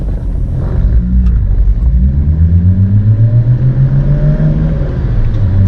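A Nissan R32 GTR, just fitted with a new ECU, sits idling at about 1000 rpm. The engine gives a loud, close, even rumble, and its pitch falls slightly as it settles down from a higher idle.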